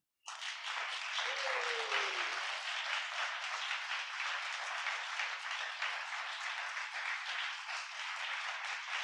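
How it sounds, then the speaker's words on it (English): Steady, sustained applause from a conference audience at a closing session, dense clapping that starts abruptly and holds at an even, loud level throughout with no talk over it. "can we please give a round of applause for Mandy?"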